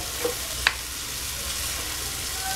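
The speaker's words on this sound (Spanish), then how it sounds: "Revolvemos muy bien." Chicken thighs stirred in a pan with bay leaf and brown sugar: a soft continuous frying hiss with a couple of brief spoon scrapes, close and fairly quiet, no voices.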